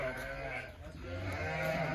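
A large flock of sheep, ewes and lambs gathered for sale, bleats nearby in overlapping wavering calls that continue throughout.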